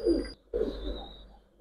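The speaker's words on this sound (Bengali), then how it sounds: "একজোড়া আছে চুয়া জেনারেশনের কবুতর" Pigeons kept in a loft of Pakistani high-flying breed coo in two close, moderately loud bursts separated by a brief pause, with no talking.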